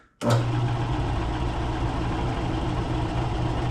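A wood lathe spins a firewood blank mounted between centers at 400 RPM, starting abruptly and settling into a steady, loud, continuous hum with a low rumbling tone, close by and with no talking.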